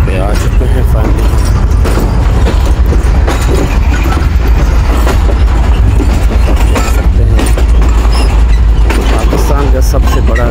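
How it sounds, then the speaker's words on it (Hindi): A passenger train in Pakistan runs on rails toward Khairpur and Rohri Junction, a loud continuous rumble with clattering rail noise throughout and people talking over it. "अभी ट्रेन जो है पहुंच चुकी है खैरपुर"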